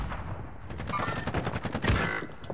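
Gunfire in the Modern Warfare video game, a quick string of faint, distant shots in a short burst, with a louder blast near the end.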